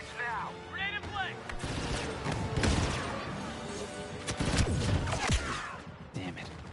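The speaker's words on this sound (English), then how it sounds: "Grenade in play." Gunfire and a grenade explosion in Star Wars Battlefront 2 multiplayer combat, with scattered shots and heavy booms under in-game voices and chatter.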